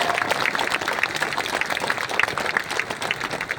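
A crowd at a political speech rally in Baryatu, Ranchi, claps in a thick burst of many hands, lively and close, keeping up for several seconds with no talking over it.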